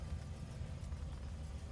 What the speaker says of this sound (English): Seems to be idling consistently now.